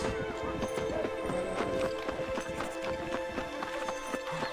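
Hooves clip-clop rapidly in a steady galloping rhythm in Red Dead Redemption, with clattering and game-like background sound throughout.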